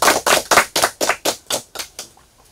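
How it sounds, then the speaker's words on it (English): Quiz competition participants clap together in a slow, unified rhythm, about nine crisp, evenly spaced claps that ring out close and loud, then fade to quiet. "Clap for yourselves."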